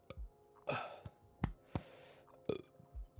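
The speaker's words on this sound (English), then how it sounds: "I have to burp." A person burps several times in a row, short close eructations spread over a few seconds with quiet gaps between them, no talking.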